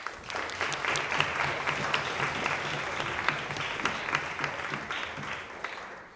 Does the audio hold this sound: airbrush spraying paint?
no